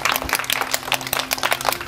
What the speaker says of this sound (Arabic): تصفيقة تصفيقة على بوبي